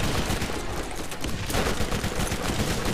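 Rapid gunfire from the Borderlands video game, a dense, continuous rattle of shots with explosive bursts mixed in, loud and unbroken throughout.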